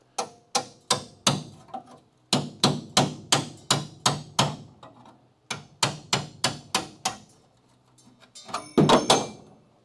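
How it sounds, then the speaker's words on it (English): A hammer strikes a chisel into the body of a Charger car in quick bursts of sharp metallic blows, groups of four to six hits separated by short pauses, close and loud. "now let's hit it with the chisel just to see."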